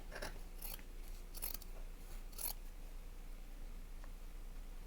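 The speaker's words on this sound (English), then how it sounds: "from the back side I can trim this excess off." Scissors trimming excess fabric from the back side of a sewn cross-body bag, giving a few crisp, close snips over quiet room tone with no talking.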